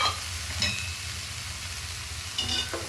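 Sliced bitter gourd sautéed over low heat in a pan for a Tamil-style poriyal gives a steady sizzle, with a couple of brief stirring scrapes near the start and end.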